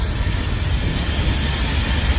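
A Union Pacific freight train rumbles past at close range, a steady, dense roar of wheels and cars with no pauses, the end DPU locomotive passing in St Paul, Minnesota.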